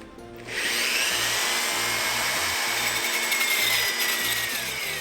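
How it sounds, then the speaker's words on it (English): A power drill fitted with a hole saw spins up after a brief quiet start and bites into a Corian solid-surface countertop, making a steady, loud whirring grind throughout. "Just let this center bit go down into the material until the outside portion of your hole saw"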